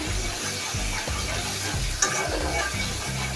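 Poa fish being sautéed with ginger paste in a pan, a steady sizzle broken by repeated scraping stirs of a spatula, close and fairly loud, with no talking.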